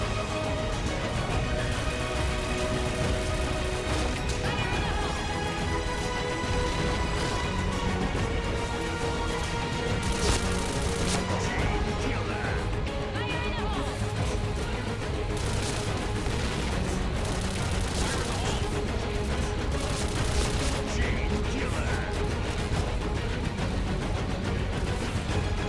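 Rapid bursts of automatic fire from a Kriss SV submachine gun in a first-person shooter fill the whole stretch, loud and nearly continuous, with layered gunshots, echoes and game background noise and no talking.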